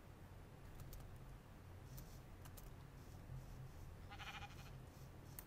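A few short sheep bleats from the video game Minecraft sound faintly over a steady, noisy game background, spread through the clip.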